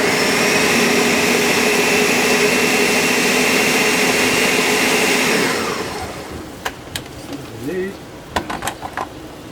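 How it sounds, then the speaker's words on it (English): A kitchen blender whirs loudly and steadily while grinding a curry spice paste, then cuts off partway through, leaving faint clicks and a voice in the background. "So just put them in there and down, and just blend it."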